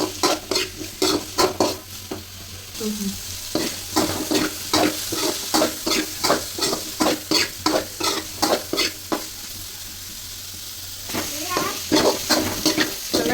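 Paneer cubes lightly frying in butter in a pan, a steady sizzle broken by a regular run of stirring and scraping strokes throughout, close and fairly loud.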